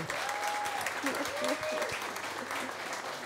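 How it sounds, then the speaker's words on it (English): Studio audience applauding on a New Zealand political panel show as Labour MP Annette King is welcomed, steady clapping filling the room for a few seconds with voices talking over it. "Big round of applause."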